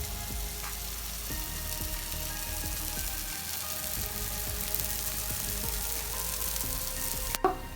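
Multigrain dosa cooks in oil on a hot pan with a steady, close, continuous sizzle and light crackle, ending with a brief clatter.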